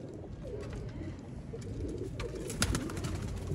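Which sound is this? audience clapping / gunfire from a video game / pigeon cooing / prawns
pigeon cooing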